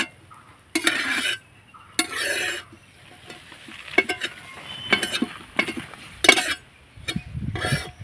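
Spatula repeatedly stirs and scrapes homemade chowmein made from flour across a hot griddle, giving sharp metallic scrapes in bursts over a steady sizzle, close and fairly loud with no talk.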